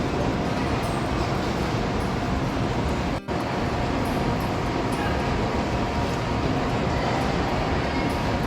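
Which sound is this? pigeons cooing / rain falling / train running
train running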